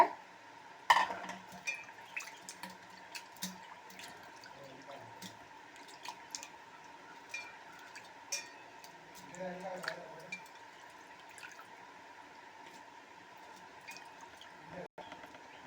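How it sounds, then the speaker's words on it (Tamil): Anchovies are rinsed in plain water in a bowl, giving scattered soft drips, splashes and light clinks, fairly faint and close, heard under steady talking. "மறுபடியும் மறுபடியும் நார்மல் வாட்டரில் இதை அலசிக்கோங்க"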